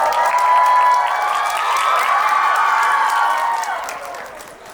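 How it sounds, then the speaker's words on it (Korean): A film-event audience welcomes a guest with loud, sustained applause mixed with cheers and scattered shouts. The clapping fills the room and gradually tapers off toward the end. "다들 박수로 맞이해 주십시오."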